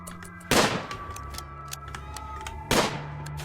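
Pistol gunfire in the video game RimWorld, two sharp loud shots about two seconds apart over a low background hum and faint clicks.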